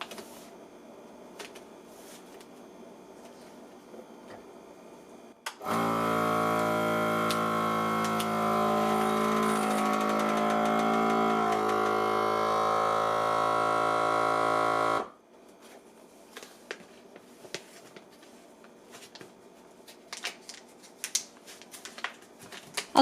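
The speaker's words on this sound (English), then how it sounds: "I'll vacuum seal 2 overripe bananas." A FoodSaver vacuum sealer works on a bag holding two overripe bananas, giving a loud, steady mechanical hum with a dense harmonic drone that runs about nine seconds and then cuts off abruptly. Quieter handling noises come before and after.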